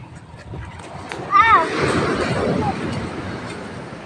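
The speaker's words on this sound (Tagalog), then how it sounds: "So sobrang lakas ng alon ngayon." Rough roaring of strong sea waves crashing and wrecking a boat, with a brief shout rising over the surge and people talking and calling nearby.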